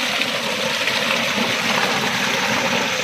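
Water drains from a tilapia fish pond in a steady, loud rushing gush with a continuous engine-like hum beneath it.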